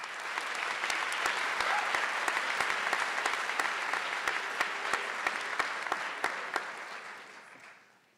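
A graduation ceremony audience at Davidson College applauds, a broad sustained wave of clapping with a few sharp nearby claps standing out, fading away over the last second.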